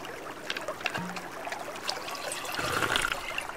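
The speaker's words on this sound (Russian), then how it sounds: "И набираем прям тут воду." Water trickling and dribbling as a flask is filled at a water source in the survival game Sons Of The Forest, a light steady gurgle at moderate level over faint ambient game sounds.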